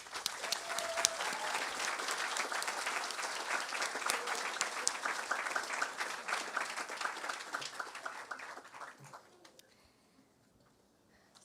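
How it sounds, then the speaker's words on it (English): A graduation crowd at a high school ceremony breaks into loud, sustained applause with dense clapping for several seconds, then it thins and fades out into near silence near the end. "Graduates, please join me in giving your amazing support network a huge round of applause"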